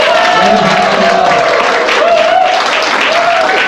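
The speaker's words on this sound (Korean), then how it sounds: "박수 부탁드리겠습니다." Crowd applause at a policy agreement ceremony for a smart semiconductor city, loud, dense, sustained clapping from many people with a voice briefly rising over it.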